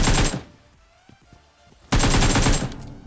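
Gunfire in a battle royale video game: a loud burst of rapid shots, a quieter stretch with a few scattered pops, then another sustained heavy volley up close.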